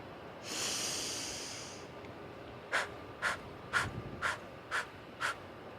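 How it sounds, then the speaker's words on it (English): A long drawn-in breath, then six short, rapid, forceful exhales through the nose in steady rhythm during a seated breathing exercise, close and alone. "We're gonna inhale about 3/4 of the way in, and then we're gonna do short, rapid exhales."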